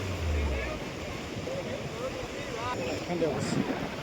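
Sea waves wash onto the shore around a car stuck in rising water, a continuous rushing roar mixed with heavy wind buffeting the microphone, with a voice faintly present underneath.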